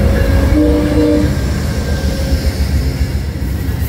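A diesel passenger train in the USA arrives, rumbling close by with a heavy low drone, a horn tone sounding briefly near the start before the engine noise carries on steadily.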